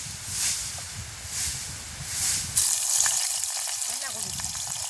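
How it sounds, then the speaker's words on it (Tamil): Eggplant fries in hot oil, sizzling and crackling steadily, rising in intensity partway through as more is added, with soft speech underneath. "எண்ணெய் நல்லா சூடு கிடைக்கிட்டு நாங்கள் கத்திரிக்காய் போடுவோம் பொறிக்க"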